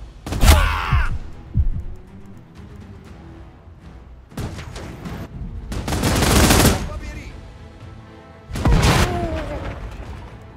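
Gunfire bursts in the video game Last Train Home, loud broadband volleys at the start and again mid and late, separated by quieter stretches of battlefield ambience.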